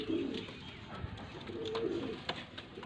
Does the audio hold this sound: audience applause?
no